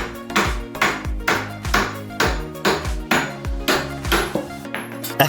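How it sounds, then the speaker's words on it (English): A hammer knocks the inner race off a stuck Toyota CV joint: about a dozen sharp metallic blows in an even rhythm, each one close and ringing with a short pinging decay. "I carefully file them down and knock the inner race off with a hammer."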